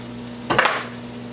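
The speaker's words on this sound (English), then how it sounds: "Let that fry up." Chicken for waffle fried chicken fries in hot oil, giving a brief, sharp burst of sizzling over a steady low kitchen hum.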